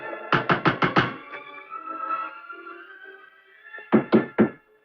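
Knocking on a door: five quick, firm raps, then a pause with a faint sustained tone in the background, and three more raps, loud and close.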